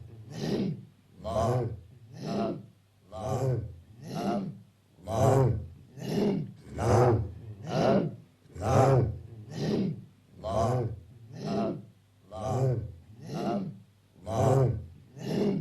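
Sufi dhikr practitioners in Afghanistan breathe rhythmically in unison, with loud, forceful, chant-like exhalations repeating about once per second, steady and close throughout.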